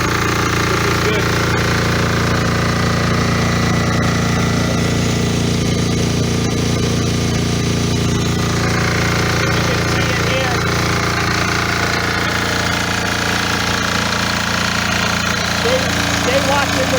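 An MEP 831A generator engine running under a load test, a loud, continuous, steady mechanical drone with a harsh rattling texture that holds for the whole stretch.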